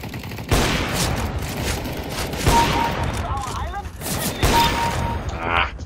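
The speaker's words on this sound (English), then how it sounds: "Oh, I'm on the AWP now." Gunfire in a CS:GO Arms Race deathmatch with an AWP sniper rifle, loud sharp shots landing in bursts amid constant surrounding firefight noise, with a few separate heavy cracks standing out over roughly six seconds.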